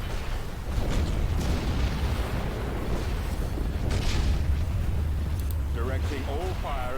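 Star Destroyer barrages in Empire at War hammer away at missile launchers, a dense, continuous rumble of booming explosions and laser fire under a speaking voice, with a few brighter pops near the end.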